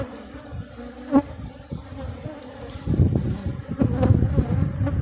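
Honey bees buzzing around an open, strong hive box holding capped brood and honey, a continuous close drone that grows louder in the second half, with a few sharper clicks and handling knocks.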